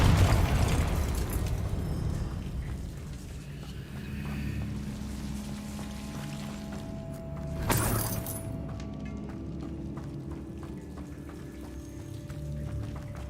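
A Confringo fire spell in Hogwarts Legacy bursts at about eight seconds, a sharp blast standing out against a low, continuous rumbling game ambience.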